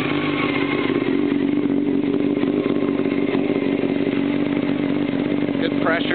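A 1994 Honda CBR 600F2 motorcycle engine runs steadily through its exhaust, making a continuous, even, close-up drone with no revving peaks.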